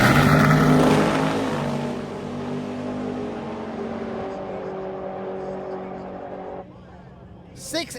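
A Ford-powered Nova drag car roars loudly through a run at a drag week event, its engine note sustained and strong before dropping off abruptly near the end, leaving quieter background noise.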